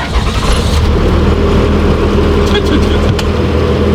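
A BMW car engine turns over and fires up during a Roadkill Ziptie Drags event, then runs as a loud, close, continuous rumble with a voice faintly underneath.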